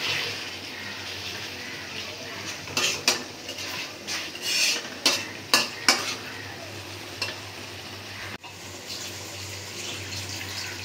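Large fish belly pieces being stirred and sautéed with browned onions in oil in a village kitchen pan, a steady frying hiss with a run of clinking stirring knocks near the middle, close by and moderately loud, no talking.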